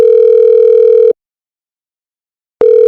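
Telephone dial tone on a call to mum: a loud steady electronic hum that cuts off abruptly, leaves a gap of silence, then returns.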